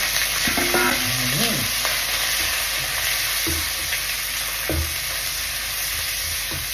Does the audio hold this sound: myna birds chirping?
no